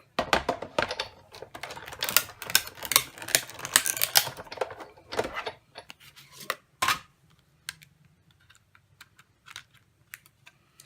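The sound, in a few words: cranking photo and cutting plate through a die-cutting machine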